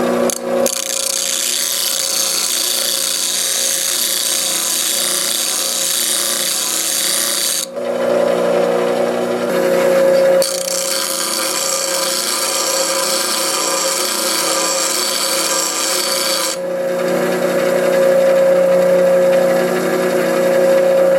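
A high-speed steel woodturning gouge is reground on a bench grinder, giving a loud steady grinding whine that runs nearly without pause, with brief shifts in tone as the tool is repositioned.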